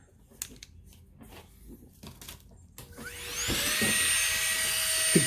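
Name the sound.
dental lab drill with burr cutting denture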